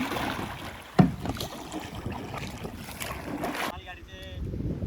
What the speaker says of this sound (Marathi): आमचा प्रेम ड्रायव्हर बघू शकता कसला वल्ला मारत आहे.